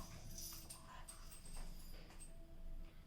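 A dog named Rio whimpers softly in a quiet kitchen, giving faint high whines and yips over low background noise.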